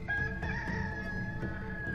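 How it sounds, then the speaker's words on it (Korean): A rooster crows in a drawn-out, steady call at moderate distance, accompanied by low background noise and no talk. "닭이 곧 두 번째 울더라"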